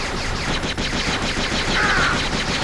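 Grenade explosions and blaster fire in the video game Jedi Outcast, a dense continuous rattle of rapid bursts and blasts, loud and unbroken throughout.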